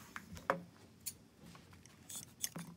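Scissors cutting through a piece of paracord: a few faint, close snips and small crisp clicks scattered over a soft background hiss.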